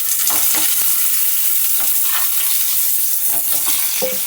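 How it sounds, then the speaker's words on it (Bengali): Raw mango pieces fry in a pan with tempered spices, giving a steady, loud sizzle throughout, broken by a few soft scrapes and stirs. No one speaks. "আমটাও হালকা করে ভেজে নেব।"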